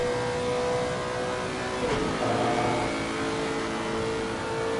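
A GT3 race car, Lexus or Ferrari, roars through Imola in a racing video game: a steady, loud engine drone with a brief gear-change dip near the middle, then climbing revs, heard alone.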